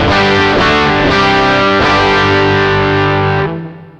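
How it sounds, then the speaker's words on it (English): PRS Studio electric guitar through a SansAmp set to a classic rock amp tone with reverb: loud, thick distorted chords strummed a few times, each ringing out, then the sound dies away at the end. "So there's a pretty damn good classic rock sound straight off the bat."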